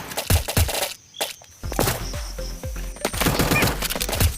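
Gunfire in a Free Fire mobile battle game as a player fights an enemy, with bursts of rapid shots and single cracks in quick succession, loud and close, over game background sounds.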